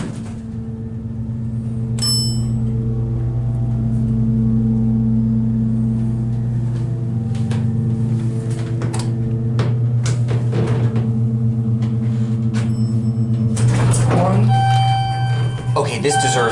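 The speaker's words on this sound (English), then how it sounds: "See how the motor sounds on this one." A Dover hydraulic elevator motor at a JCPenney in Brunswick Square Mall, East Brunswick NJ, hums steadily through a ride, a loud even drone with chimes and clicks near the start and a clunk of doors or stopping near the end.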